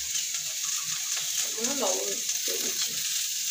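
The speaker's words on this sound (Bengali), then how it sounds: "এগুলো আমি এবার তেলে ভেজে নেব।" Soybean chunks and diced potatoes with a little turmeric frying in hot oil in a kadai, a steady close sizzle running throughout while a voice speaks briefly over it.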